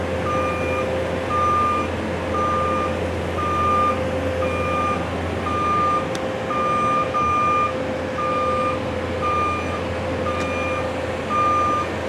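A 2018 JLG 800AJ articulating telescopic boom lift with jib runs its engine at high throttle with a steady, loud, close drone. A backup alarm beeps in a regular, repeating pattern over it.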